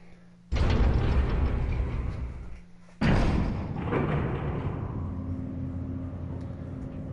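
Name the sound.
elevator moving in Resident Evil REmake video game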